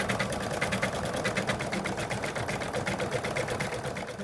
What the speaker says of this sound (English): now it's going to stitch the outline again